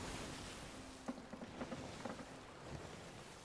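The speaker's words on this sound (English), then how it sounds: "These waves are big." Ocean waves and wind wash steadily around a sailboat heading west through big swells, a faint, continuous rush with a few soft knocks and creaks from the boat.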